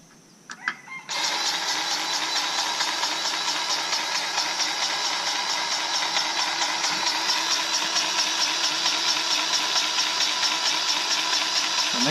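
A Dewalt electric grease gun starts after a few brief clicks and handling knocks, then runs with a loud, continuous whirring motor drone. The drone holds steady close by, with faint rhythmic pulsing, and no one speaks.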